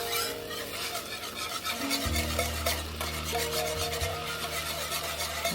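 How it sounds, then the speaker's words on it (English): A whisk scrapes and swirls through buttermilk being stirred into a gravy, a rhythmic rasping rub over a low simmering hum, close and moderately loud. "A little whisk action going on with this one."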